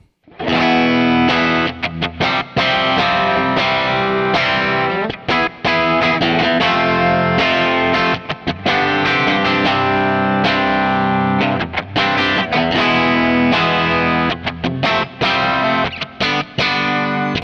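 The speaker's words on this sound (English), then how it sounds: "Sooze, play us out on this wonderful Strat sound." A Stratocaster-style electric guitar plays continuously with a bright, slightly overdriven tone, busy picked phrases and chords flowing without pause, loud and close.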